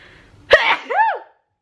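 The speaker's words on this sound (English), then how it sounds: "I'm gonna sneeze." One sharp human sneeze, close and loud, a sudden burst followed by a drawn-out voiced tail, then silence.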